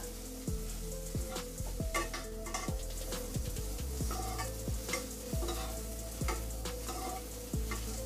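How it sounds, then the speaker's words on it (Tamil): Drumstick leaves stir-fried with egg in a pan, a continuous sizzle with regular spatula strokes scraping and tapping the pan, close and steady, with nobody speaking. "கீரையை சேர்த்த பிறகு இந்த முட்டையிலே வந்து 1 நிமிஷம் வரைக்கும் நல்லா கலரி விட்டுக்குங்க."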